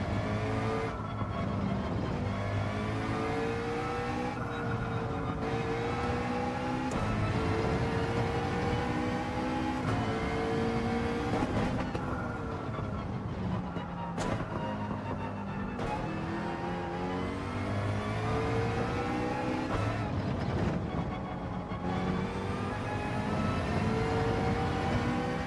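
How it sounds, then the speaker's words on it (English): A McLaren race car in Gran Turismo 7, GTWS manufacturer season test, held in 5th gear down a straight: a loud, continuous engine drone whose pitch swells and dips, with no talk over it. "I think it would just be staying in 5th gear in the McLaren on this straight"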